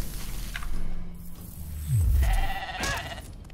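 In a video game, a sheep lets out a synthetic bleat amid game effects: a low sliding crunch, then a bright wavering cry, close and fairly loud with no talk over it.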